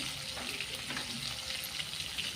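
Rohu fish frying in a pan, a steady broadband sizzle with crackling pops throughout, moderately quiet and with no voices.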